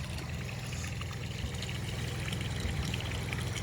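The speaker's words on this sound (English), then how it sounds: "It's the first bit of water coming through the freshly clean filter." Water running through a freshly cleaned filter on a neglected, dirty garden pond, a steady pouring trickle close to the microphone, continuous with a low rumbling undertone and no talk.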